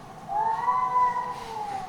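One cat gives a long, drawn-out aggressive yowl aimed at another cat. The tone is steady and wavering, at moderate loudness against quiet background noise.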